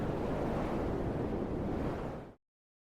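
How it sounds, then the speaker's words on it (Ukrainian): Stormy sea surf roars with wind gusting over it, a loud, steady, dense rush that cuts off abruptly near the end. "І навіть від цього трапляється шторм на морі."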